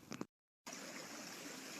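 A stream, the River Kenwyn, flows through Truro woodland with a steady broadband rushing and trickling, continuous and fairly close, following a short gap of silence near the start.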